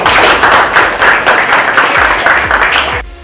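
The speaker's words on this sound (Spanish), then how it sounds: "Un aplauso para todos ellos." Crowd at a graduation ceremony for new heritage guards in Amazonas state claps loudly and close, a rhythmic, slightly synchronized applause with a steady beat, cutting off abruptly near the end.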